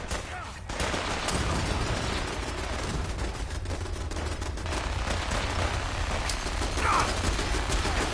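Sustained gunfire in Fallout 4 crackles through a continuous firefight, dense overlapping shots and bursts at steady loudness with rumbling low booms underneath, and voices calling out amid the battle.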